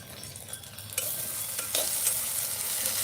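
Okra kuzhambu ingredients sizzle in a hot pan while being stirred, a bright continuous frying hiss with a few scraping stirs, close and without talk.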